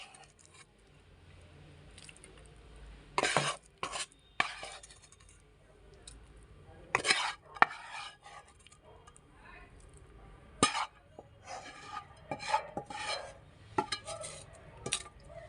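Thick, milky kalakand sweet is tipped into an oiled steel plate, with sharp metallic clinks and scrapes of a utensil against steel coming in scattered bursts over a quiet background.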